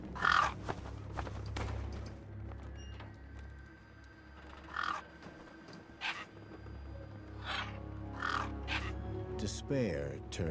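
Crows caw repeatedly in a bleak wasteland setting of the video game Beyond a Steel Sky, harsh calls spaced every second or two over a low ambient rumble, some near and some farther off.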